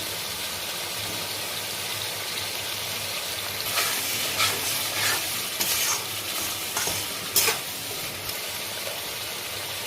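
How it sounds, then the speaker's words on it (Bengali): Tomato puree hitting a hot frying pan, a steady sizzle that swells with bursts of spitting and stirring partway through, close and continuous. "এরপরে টমেটো পিউরিটা দিচ্ছি সঙ্গে দেবো নুন"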